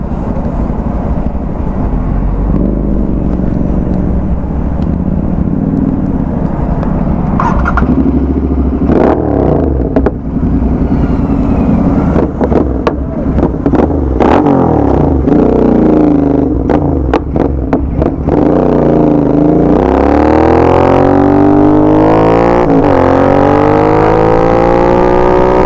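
A Royal Enfield GT 650 motorcycle with a Code 6 Stage 2 tune idles loudly up close with a deep, throbbing exhaust, then revs sharply several times, its pitch climbing and falling with popping bursts between revs.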